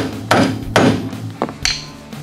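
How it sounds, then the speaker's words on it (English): A rubber mallet knocks ball joints out of a steering knuckle on a Polaris RZR Turner during an axle job, with four dull, hard thwacks in about two seconds, close and loud. "you might have to use a rubber mallet"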